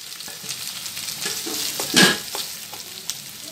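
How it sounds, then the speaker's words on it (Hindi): Potatoes added to a hot pan of sautéing ginger and green chili, a steady sizzle with stirring scrapes and one louder burst, close and with no talking. "हल्का सा इसको सॉटे कर लेंगे। अब इसमें आलू डाल दें।"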